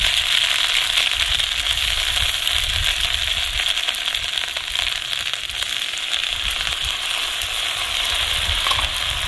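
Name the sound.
frying ground chili and ginger paste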